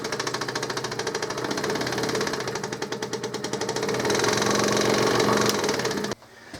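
Old scroll saw running after being switched on, a close, loud, rapid mechanical clatter and hum with a fast regular reciprocating rhythm that grows slightly stronger before cutting off abruptly.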